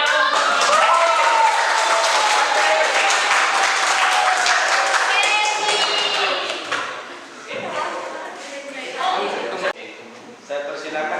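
Classroom audience applauding after a class presentation, a burst of dense clapping that fades after about six seconds into scattered claps and thuds.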